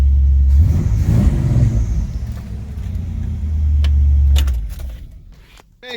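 The engine of a 1971 GM truck idles and revs, a loud low rumble swelling twice, with light metallic clinks and handling noises near the end as it fades.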